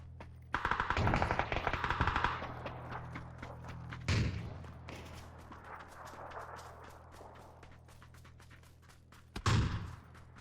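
Automatic gunfire in the battle game PUBG: loud close bursts open the clip, followed by further rapid volleys and a final burst near the end, with game background noise between them.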